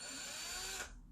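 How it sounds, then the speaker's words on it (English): A power drill whirs steadily while boring out a 3D printer extruder part on a Hictop Tenlog D3, a sustained high whine close by that winds down and stops just before the end. "So drill that out, be careful not to hit the bearing"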